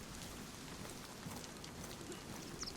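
Steady rain falls outdoors, a dense, even hiss of drops hitting surfaces that holds at a constant level throughout, with no voices.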